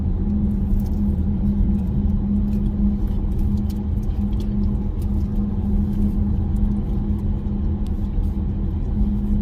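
Steady low road rumble of a Tesla Model S Plaid cruising on Autopilot, with constant motor and tire drone throughout and no talking.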